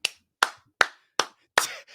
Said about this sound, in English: We just need to shut up and clap for a second.